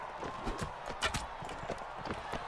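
Hooves clop rapidly and rhythmically on hard ground, a galloping horse at moderate distance in the video game Mount & Blade: Warband during a tournament, with faint background noise.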